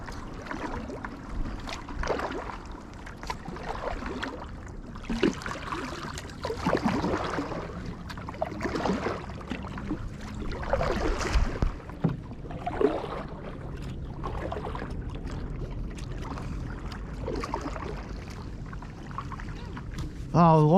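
A kayak paddles along the Murderkill River at Killens Pond, with soft water swishes and splashes under steady outdoor ambience while people talk throughout.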